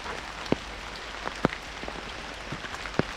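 Rain falls steadily in a forest near a rest house in June, a constant wash of patter with a few louder drips striking close by at irregular moments.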